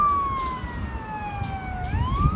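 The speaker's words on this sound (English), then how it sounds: "Oh, it's an ambulance." An ambulance siren wails along a city street in North York, Toronto, with a steady tone that slowly bends downward and then climbs again, heard at moderate distance over low traffic rumble.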